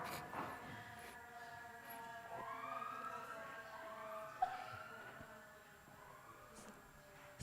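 An emergency siren wailing in rising and falling sweeps, moderately distant and growing as it approaches, heard over a steady low background hum.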